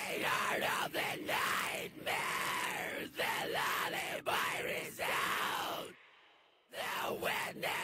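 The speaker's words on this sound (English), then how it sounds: "You can just hear the tails at the end, like you're screaming in a bathroom." A screamed vocal processed with a bathroom-style reverb, harsh repeated yells with short gaps between them and ringing reverb tails, cut off abruptly by a brief near-silent pause before the screaming resumes.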